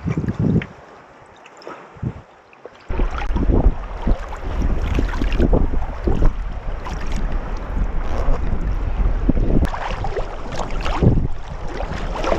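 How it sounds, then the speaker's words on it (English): Strong wind buffeting a kayak on Lake Superior, a loud rushing roar that starts quieter with gaps and then turns into steady gusting noise with occasional thumps, close to the microphone and without speech. "This wind is doing really strange things."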